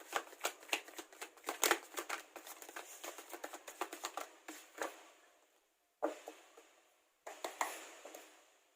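Tarot cards are shuffled by hand in quick riffling bursts of crisp papery flutters, close and fairly quiet, broken by brief pauses.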